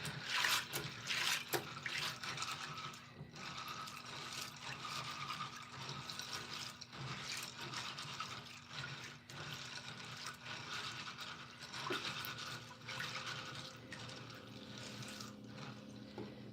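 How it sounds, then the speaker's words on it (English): Cold tap water running into a kitchen sink over beans being rinsed, a steady splashing flow with faint clinks, close and continuous, no talking. "So I'm just gonna kind of put some cold water on them."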